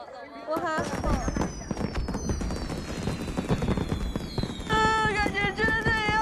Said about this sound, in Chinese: 大家一起看烟花吧！